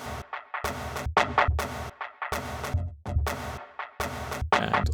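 A bright synthesized bell sample with EQ off plays short repeated phrases, harsh and full-bodied, with brief pauses between the groups of notes.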